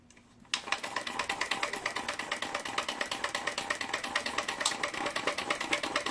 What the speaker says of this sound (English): So this is just a low temperature differential engine.